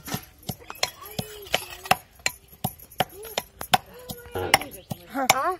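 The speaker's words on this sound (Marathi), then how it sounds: "आणि कोथिंबीर बी चांगली कापून घेते" A knife chops fresh coriander on a board in quick, sharp, evenly spaced strikes close by, while someone speaks softly between cuts.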